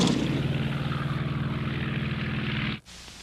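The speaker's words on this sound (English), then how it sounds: "The plane the intruders used was the best the Allies had, the Mosquito." A de Havilland Mosquito's propeller engines roar loud and steady with a throbbing pulse, then cut off abruptly near the end, leaving a quieter background.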